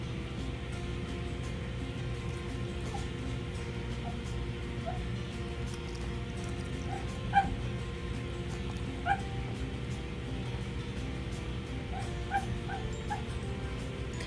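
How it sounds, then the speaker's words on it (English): Sleeping dog whimpering while it dreams, soft scattered yips and whines at about 7 and 9 seconds and again near 12–13 seconds, faint over a steady low background hum. "Oh, my dog is dreaming."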